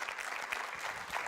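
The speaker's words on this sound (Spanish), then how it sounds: "Denle un aplauso por eso a Dios." A church congregation at a Sunday service breaks into applause, a dense, fairly faint burst of clapping lasting just over a second.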